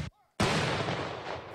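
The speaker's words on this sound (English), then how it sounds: "With a patriotic flyover and a cannon salute," A single loud, booming cannon shot from a Memorial Day ceremony salute, its roar decaying slowly after a short hush.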